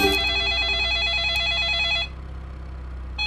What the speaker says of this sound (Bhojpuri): जीजा जी का फोन उठाए बात करें।